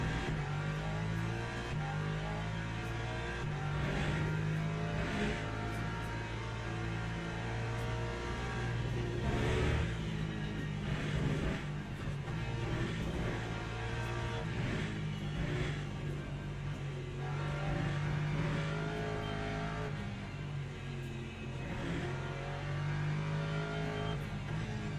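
Race cars in Le Mans Ultimate lap the Circuit of the Americas in stormy conditions, a continuous droning engine note that shifts with revs and gear changes, steady and close.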